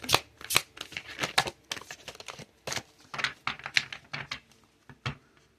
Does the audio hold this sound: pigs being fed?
no